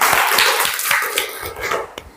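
Class applauding together in a classroom, a brief burst of rapid, close hand claps that tapers off after about two seconds.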